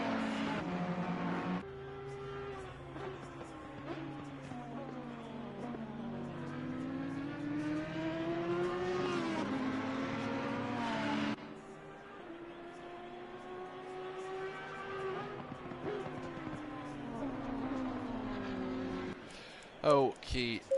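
Race cars, including an Audi and a Ferrari, roar around Mount Panorama in a racing game's endurance event, with overlapping engine notes rising and falling through gear changes while a voice talks over them.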